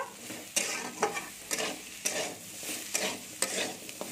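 Potatoes fry with salt and turmeric, a low continuous sizzle punctuated by regular scraping stirs roughly every half second, close and moderately quiet, without speech.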